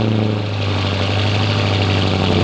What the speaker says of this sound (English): being in a grocery getter Lamborghini, the fastest production SUV ever built, with a straight pipe exhaust